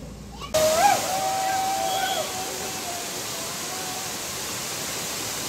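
Gurgling streams rush among the hills of Mount Abu in the rain, a steady broad wash of flowing water, with a brief wavering tone over it near the start.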